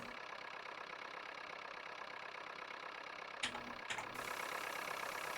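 A Super Major tractor engine idles steadily in Farming Simulator 19 on Giants Island, a continuous mid-pitched drone with a couple of brief clunks near the end.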